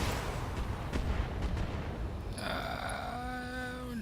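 Mech weapons fire in the BattleTech video game, a dense barrage of booming impacts through the first half, then fading into a sustained tonal whine with a hum below, loud and continuous without talk.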